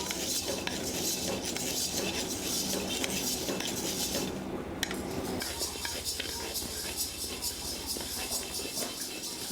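Lentils dry-roasting in a heavy-bottomed pan, with loud continuous scraping and clinking of a metal spoon against the pan, busy and close, with a brief lull midway.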